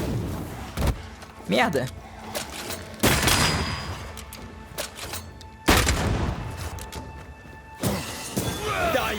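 Enemy gunfire in the video game Banishers: Ghosts of New Eden, sharp blasts and crashing impacts hitting in several loud bursts spread across the scene, with a voice breaking in briefly.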